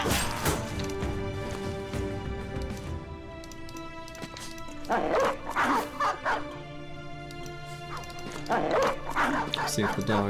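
Dogs chasing a raider in a medieval peasant militia video game, giving repeated barks and yips with whimpers, amid clashing combat noise and someone talking over the action.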